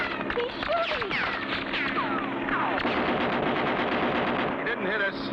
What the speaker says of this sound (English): Gosh, he's shooting us.